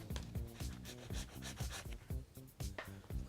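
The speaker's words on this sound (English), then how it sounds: "Just scrape that off with a plastic scraper." A plastic scraper drags water-based Timbermate wood filler off a wooden surface in a quick series of close, rhythmic rasping strokes, each a short scraping swipe.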